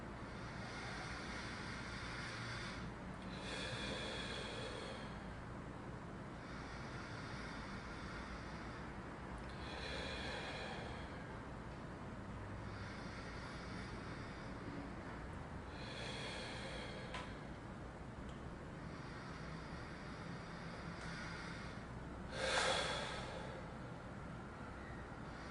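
Slow, deep, gentle breaths drawn down into the stomach repeat every few seconds, each a soft airy swell over a constant low background hiss.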